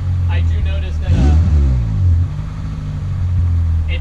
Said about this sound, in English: It's just meatier than the stock exhaust.